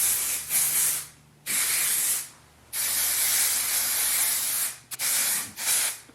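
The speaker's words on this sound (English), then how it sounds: "I'm gonna spray my hair with this Style on Steroids Performance Enhancing Texture and Finishing Spray" Style on Steroids texture and finishing spray misted onto hair from an aerosol can in several close, loud bursts, each a bright sharp hiss lasting about a second or two with short silent gaps between.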